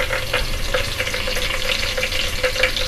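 Onions and bay leaves fry in a pan for a traditional Bengali bhuna khichuri, making a loud, continuous sizzle with crackling pops throughout, no voices over it.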